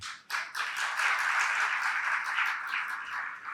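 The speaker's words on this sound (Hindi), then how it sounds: "ताली तब बजा भैया जब जरूरत हो," Crowd clapping at a Jain religious discourse, a sustained wash of many hands starting after a brief gap, steady and moderately distant, filling the hall without any voices on top.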